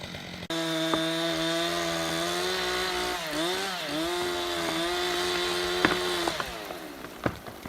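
A chainsaw cutting into an old tree trunk, its engine holding a loud, steady buzzing whine that dips and recovers as the chain bites into the wood, with sharp cracks and knocks toward the end.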